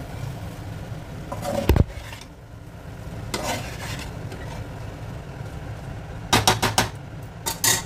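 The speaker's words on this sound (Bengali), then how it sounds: "প্রথমে অর্ধেকটা দিলাম, ধীরে মিশিয়ে নেব।" Schezwan chicken fried rice being stirred and folded together in a pan, giving soft scraping and rustling strokes that come in short bursts, with quieter gaps between them.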